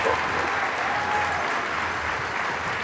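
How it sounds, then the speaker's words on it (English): A large audience at the 2022 AFN convention in Alaska applauds after a keynote speech, a dense, steady wash of clapping heard close and loud throughout. "please just give her another round of applause"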